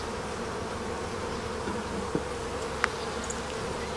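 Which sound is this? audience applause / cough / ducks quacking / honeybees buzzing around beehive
honeybees buzzing around beehive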